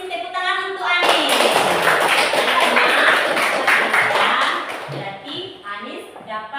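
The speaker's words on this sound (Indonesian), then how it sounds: "tepuk tangan untuk Anis" Classroom of children clapping for a classmate: a burst of dense, loud applause lasting several seconds, then tapering into scattered claps as voices return.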